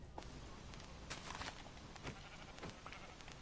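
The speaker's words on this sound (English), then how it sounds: "Alright, I found another sheep" Sheep bleat in a video game as a few faint, short calls that repeat over a low, steady background hum.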